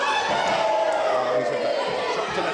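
Dense wrestling crowd noise filling an indoor event hall, a steady roar of massed voices rising into a chant for CJ Rawlings, with faint thuds from the ring underneath.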